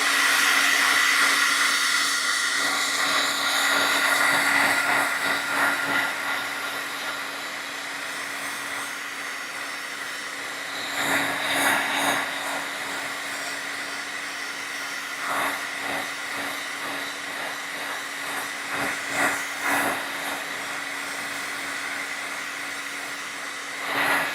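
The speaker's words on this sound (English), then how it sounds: "I'm going to dry this with a heat tool." A heat tool blows hot air over ink on a handmade card, a steady loud whirring roar in the first few seconds that then drops to a quieter hum, with intermittent brief bursts.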